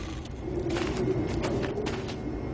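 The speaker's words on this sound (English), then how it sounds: "The machinery's kind of loud, but that's the sound of clean coal technology." Loud machinery running at a clean coal facility, a steady, dense industrial rumble and hum with no breaks, close and continuous throughout.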